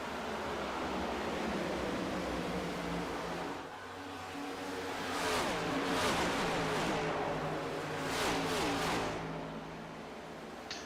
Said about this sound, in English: Right now we got the leaders going by the lap down car of John Ledger.